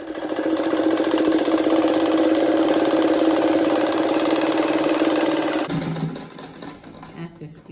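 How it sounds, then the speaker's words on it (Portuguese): A sewing machine stitches together pieces of patchwork fabric for a rag rug, with a loud, fast, steady mechanical whir that runs for over five seconds, then stops abruptly, leaving quieter handling sounds. "Então agora eu vou costurar esse com esse."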